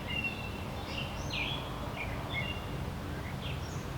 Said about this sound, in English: I know up in that tree there's a bird just humming away, singing away